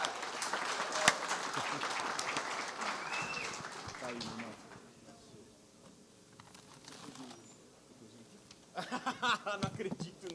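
An audience at a lecture event breaks into applause, a dense burst of clapping for the first few seconds that fades as a voice starts talking, with a brief further patter of claps near the end.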